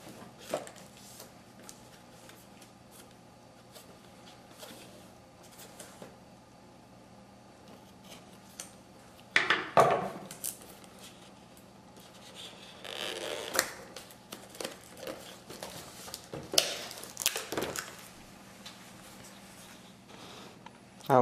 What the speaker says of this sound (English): So I'm going to get this thing cut open and let's see what we got inside.